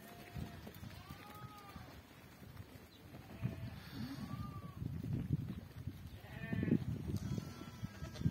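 Goats bleat repeatedly in wavering cries, some near and some farther off, amid trampling hooves and a person talking in the background.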